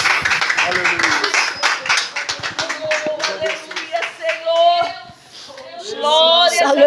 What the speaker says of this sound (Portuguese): Aplauda o Senhor Jesus, porque Ele é digno de glória, de honra, de adoração.